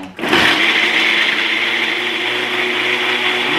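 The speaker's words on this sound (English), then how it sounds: "Blend that mug up." A blender whirs steadily, mixing a Pink Whitney and sherbet ice cream drink in a mug: a loud, continuous motor roar that starts suddenly and holds for several seconds, with no voices over it.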